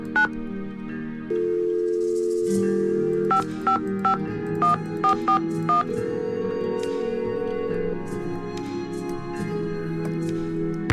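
Telephone dialing in the video game Nancy Drew: Secret of the Scarlet Hand, with a sustained tone followed by a quick series of distinct beeping key tones, clear and alone.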